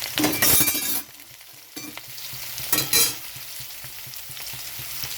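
Potatoes frying in a pan with cumin seeds as green chillies go in: bursts of spatula stirring and scraping over a steady sizzle, close and clear, no talking.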